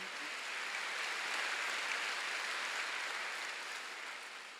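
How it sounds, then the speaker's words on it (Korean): A congregation at a Wednesday church service claps together, a soft, steady, even wash of applause heard from a distance that swells slightly and then tapers off. "박수."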